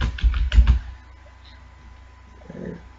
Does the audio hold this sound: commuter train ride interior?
no